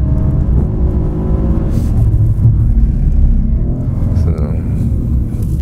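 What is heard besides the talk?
Mercedes-AMG C 63 S driving on race track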